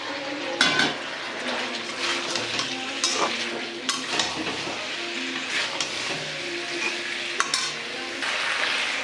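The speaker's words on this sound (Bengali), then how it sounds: "এবার এই পেঁপে, আলু, রাঙালু" Papaya, potato and sweet potato lightly frying in spiced oil for shukto, a soft sizzle broken by clanking stirs and scrapes of a utensil against the pan, close, with no voices.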